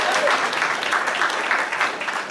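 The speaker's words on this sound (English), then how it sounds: "by a round of applause, anybody here who's ever worked in a restaurant?" Comedy club audience giving a round of applause at a live comedy show, dense steady clapping filling the whole stretch at moderate volume with no talking.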